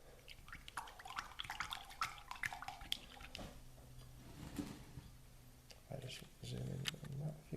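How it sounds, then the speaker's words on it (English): A pipette stirring a glue-and-water mix for ballasting a model railway: soft, close drips and small squirting splashes in irregular bursts, faint, with a low voice murmuring under them. "Next, what we need is to mix it up, and we're going to do that with our pipette"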